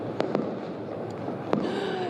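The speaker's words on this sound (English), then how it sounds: "And I can hear the fireworks." Fireworks bursting over a crowd celebrating in Aleppo, Syria: a few sharp, separate bangs stand out over a steady wash of distant crowd noise.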